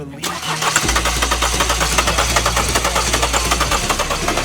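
A car engine with no warning lights cranks repeatedly but fails to catch, a steady rhythmic churning of the starter close up and loud, continuing for several seconds without settling into an idle.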